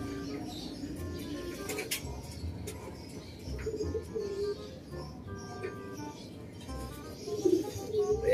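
Racing pigeons cooing at the loft after returning from a race, soft repeated low coos amid bird chatter and occasional wing flaps, with faint background voices.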